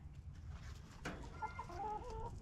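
A chicken clucks a few times in a quiet home workshop, close and fairly soft, with a short sharp knock just before the clucking begins.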